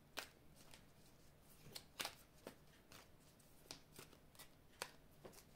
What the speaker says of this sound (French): Alors, je vais couper le jeu